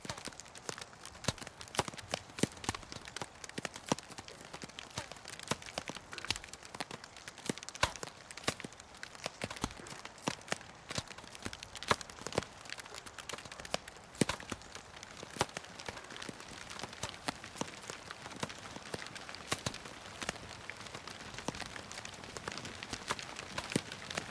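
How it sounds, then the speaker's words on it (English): Hail in the video game Nightingale falls as a steady patter of sharp, distinct impacts on surfaces, with scattered individual hits building toward a denser textured layer over about twenty-four seconds, faint and without talk. "When hail begins, we start with individual impacts, which build up to a full texture."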